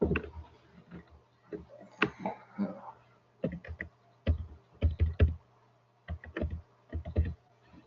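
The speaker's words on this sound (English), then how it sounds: "let me type that in" Typing on a computer keyboard, close and fairly quiet, in irregular bursts of quick key clicks separated by short pauses; no voices.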